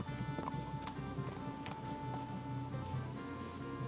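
Steady clip-clop of horse hooves trotting along in Kingdom Come: Deliverance II, with a game-like ambient bed and occasional rustles, no talking.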